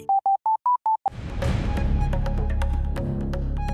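A landline SLT home telephone gives a rapid run of six short, even beeps in the handset, each a clear pure tone; then the beeps end and louder music with a steady beat takes over.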